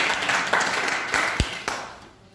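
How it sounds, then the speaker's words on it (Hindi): Several sharp bursts of hand clapping from a small audience at a business seminar, coming in short uneven rounds before fading out at the end. "ताली के लिए ताली"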